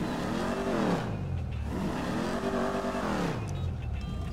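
A modded car engine in GTA 5 revs hard, its harmonic whine rising and falling in repeated sweeps, loud and close with no talk over it.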